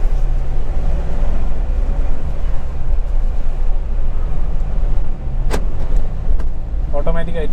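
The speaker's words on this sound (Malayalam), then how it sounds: "ഇനി നമുക്ക് സ്ട്രെയിറ്റ് അവേ വണ്ടി ഓടിച്ച് നോക്കാം" A 2020 Mahindra Bolero B6 drives with a steady low engine and road rumble inside the cabin, a brief click and some faint rattles near the end, with a person talking at times.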